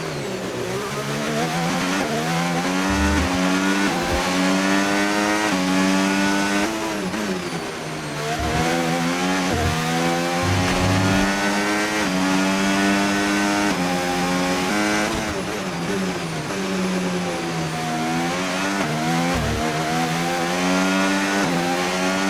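A Formula 1 car in the racing game F1 25, accelerating out of the pits at Montreal: a loud, high-pitched engine screams continuously, rising through gears with repeated sweeping climbs and brief drops at each shift.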